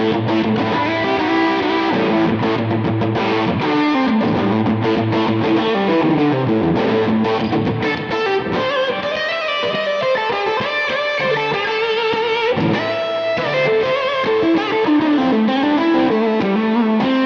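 A Gibson Goldtop electric guitar with Pearly Gates humbuckers is played through a fuzz tone, a loud, continuous distorted riff with shifting notes and chords.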